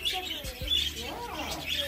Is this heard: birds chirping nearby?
yes